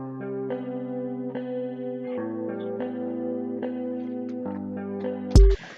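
A downloaded emotional Afrobeat-style melody loop plays alone, sustained chorus-soaked synth chords changing every second or so, ending in a sudden loud burst.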